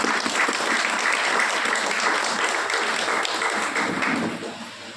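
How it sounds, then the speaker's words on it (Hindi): Loud, sustained applause from a crowd at a direct selling industry event, dense clapping that holds steady for several seconds before starting to fade at the end. "हमारे मैनेजिंग डायरेक्टर इंद्रदेव सर के लिए एक जोरदार तालियां।"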